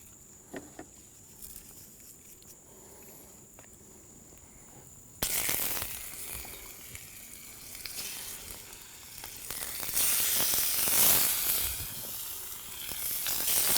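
Rabbit seasoned with salt sears in oil in a ripping-hot cast iron pan at a camp, a loud sizzle bursting in abruptly and swelling into steady crackling frying after a quiet start.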